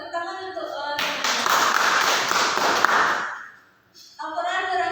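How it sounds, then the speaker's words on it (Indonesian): During a classroom lesson, a small group claps hands for about two seconds, a brisk burst that tapers off, with speech before and after it. "Tepuk tangan untuk"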